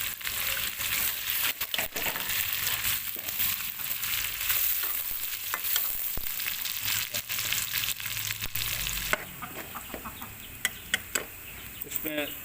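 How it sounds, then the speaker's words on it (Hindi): Garlic-ginger paste and onions frying in a pan for a chicken samosa filling give a steady, loud sizzle throughout, with occasional stirring clicks and a brief drop in intensity near the end. "2 चम्मच लहसुन अदरक का पेस्ट डाल दिया। और इसमें से थोड़े से प्याज मैंने डाले हैं"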